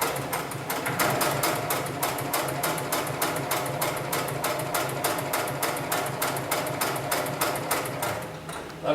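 A 733CS extra heavy duty sewing machine stitches through thick lifting sling material, its needle hammering in a fast, steady mechanical rhythm that runs continuously and loud for the whole stretch before stopping at the end.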